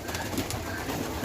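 Pigeons in a pigeon room on a farm, soft low cooing murmurs close by and faint under a steady background hum.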